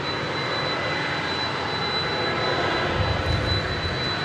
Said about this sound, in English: UPS. Which is just firing up to the south of us. In fact, there it is now.